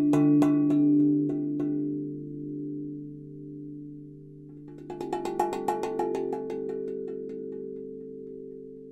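A tongue drum plays an intro: clear, sustained metal tones that ring out over one another, first a few spaced strikes, then a denser run of notes over the lingering hum.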